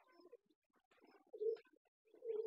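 Caged pigeons give two low, throaty coos close by, each lasting about a third of a second, with softer murmuring and quiet gaps between them.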